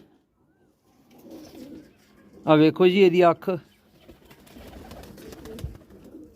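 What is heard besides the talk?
pigeons cooing on a rooftop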